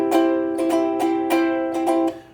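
A ukulele strums a rhythm in a steady down-up pattern, about eight bright strokes over two seconds, close and clear, then the last chord fades out.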